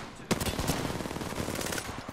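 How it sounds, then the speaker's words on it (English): Rapid automatic gunfire from the Apex Legends battle royale game crackles in a sustained burst after a sharp opening shot, moderately loud and continuous with no talk over it. "Oh, someone's shooting."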